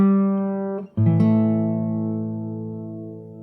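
Fingerstyle acoustic guitar plays a phrase of the Last of Us 2 main theme: a held chord rings, a brief break, then a freshly rolled chord sustains and slowly fades, played solo and up close.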